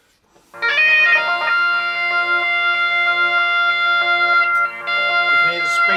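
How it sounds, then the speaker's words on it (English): Electro bagpipes from Germany run through a JAM pedals Delay Llama Extreme with its delay speed changed: a loud droning chanter tune starts after a brief quiet moment, with sustained reedy notes and echoing repeats and a short dip near the end. "you can hear the speed has changed"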